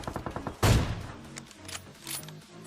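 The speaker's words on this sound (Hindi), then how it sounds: "अब यहाँ पे कुछ बंदे दूर से फायरिंग कर रहे थे" Gunfire in PUBG Mobile crackles in rapid bursts, a string of close, punchy shots with one heavy blast and further volleys trailing off, loud and without talk.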